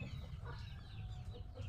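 A chicken recovering from rainy-season illness clucks softly and sporadically at a distance, faint over a low steady background hum with no talking.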